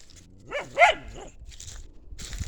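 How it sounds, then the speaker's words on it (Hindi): Two farm dogs bark in a short burst of two or three sharp, close barks, followed by quieter yips and rustling in an otherwise calm outdoor setting, with no talk. "ये तो भौंक करते हैं,"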